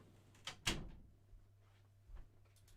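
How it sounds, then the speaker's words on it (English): A studio door in an office room closes with a single sharp thump after a faint creak, followed by a softer knock moments later in an otherwise quiet room. "I gotta close my door"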